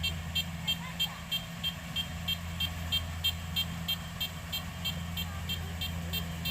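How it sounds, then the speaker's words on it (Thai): Full grain tank warning beeping from a large Thai-built rice combine harvester during harvest, a steady string of about a dozen evenly spaced beeps repeating over a constant engine drone. "เสียงเตือนเต็มเลยนะครับ"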